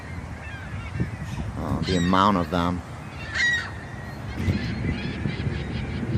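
Geese honking outdoors beside the old Circuit City building off Hylan Drive in Henrietta, among a large flock of seagulls: a short burst of several loud, near honks, with someone speaking before and after.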